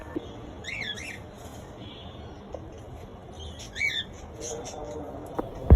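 Pet cockatiels and lovebirds in cages give short squawks and chirps in brief bursts, moderately close, over a low room background.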